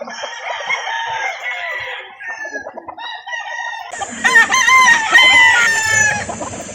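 Chickens at a breeder's farm in Calauan, Laguna cluck and call nearby, then a rooster crows loudly partway through as more birds join in a dense, overlapping chorus.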